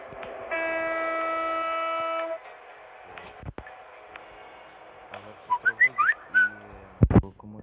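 A long, steady multi-tone train horn blast in a video game, then silence, a sharp knock, and a series of short whistle-like toots ending in a loud clatter.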